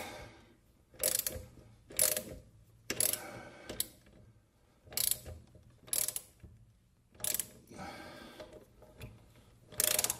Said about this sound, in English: a socket wrench on a square nut or bolt